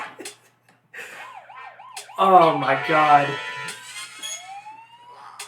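A mini trumpet squeezed to a very high, squeaky note amid wavering tones and an excited voice, the shrill peak and a thin sliding squeal standing out over a brief exclamation.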